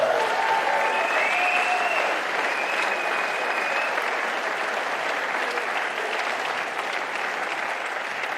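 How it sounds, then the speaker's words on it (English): Spectators at a squash match in an Amsterdam stadium applaud after the game, a dense, steady wash of clapping lasting several seconds with faint whistles or cheers near the start. "Big round of applause for that game."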